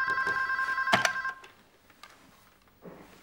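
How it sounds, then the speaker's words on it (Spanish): A telephone rings with a bright electronic trill, a couple of quick rings close by before cutting off, followed by quiet room sound. "Tengo que contestar el teléfono."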